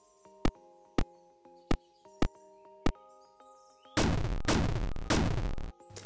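Placing a bomb or mine in the pixel-art video game Pixel Legends: a series of five evenly spaced sharp clicks, followed by a loud, sustained noisy burst with crackling pulses, like a close explosion, alone over faint background music.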